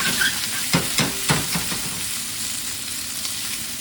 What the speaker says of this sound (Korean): 양파를 갖고 볶아줍니다